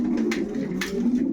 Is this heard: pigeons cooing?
yes